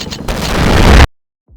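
An explosion in the Sift Heads video game builds into a loud, close roaring boom that swells for about a second, then cuts abruptly to silence.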